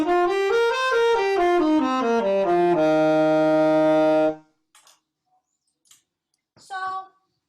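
Saxophone with its reed vibrating on the mouthpiece, a single loud, bright sustained tone sliding through a few pitches before settling on one held note that cuts off, followed by faint clicks and a brief voice.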